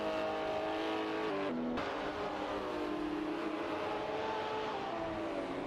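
Race cars lap Oulton Park in a sim racing game, a sustained close engine drone with shifting revs and a brief gear-change dip, running alone without voices.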